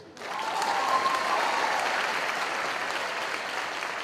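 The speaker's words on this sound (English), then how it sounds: "Yeah, you can clap for him." A graduation ceremony audience bursts into applause for a graduate, the clapping rising quickly after a quiet start and holding as a full, steady wash of many hands for several seconds.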